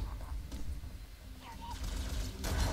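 Gunfire in the first-person shooter Halo: Combat Evolved, a few muffled bursts of shots from an alien enemy firefight over a constant low game background.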